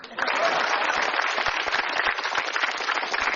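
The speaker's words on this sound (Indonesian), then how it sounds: "Tepuk tangan dong." A stand-up comedy show audience in a TV studio breaks into loud, dense clapping that holds steady throughout, with scattered crowd voices mixed into the applause.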